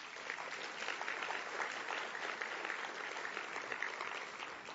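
An audience at an education and workforce plenary gives the awardees a steady round of applause, dense and even from start to finish with no voices standing out.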